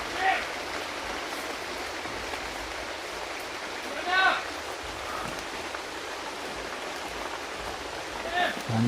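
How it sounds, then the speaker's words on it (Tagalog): Steady broadband hiss of rain pours down throughout, with faint voices and a few brief chirps rising above the wash now and then. "Lakas na yung ulan po mga tol."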